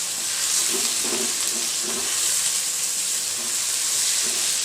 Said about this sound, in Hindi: साथ में हाफ चम्मच हरी मिर्च, और हम इसे अच्छे से भून लेंगे।